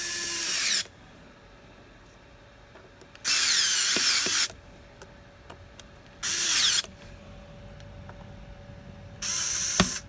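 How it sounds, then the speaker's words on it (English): A power driver tightens screws on an Uhlmann reel during a spring replacement, giving four short, loud whirring bursts separated by quiet pauses. "Now I can go ahead and tighten them all down."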